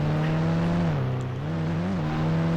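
A car drives in a zombie video game, with a steady droning engine tone that dips and rises slightly as it moves, loud and continuous with no talk over it.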